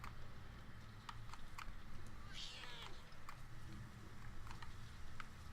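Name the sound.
cat meowing in the video game Murdered: Soul Suspect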